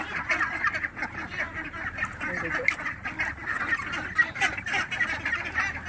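A flock of 46-day-old ducklings quacking and chattering continuously, a dense overlapping din close by with no talking.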